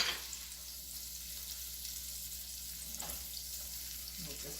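Butter melting in a hot pan on high heat, a soft, steady sizzling hiss with a faint crackle and a couple of light pops, quiet and close, without any talking.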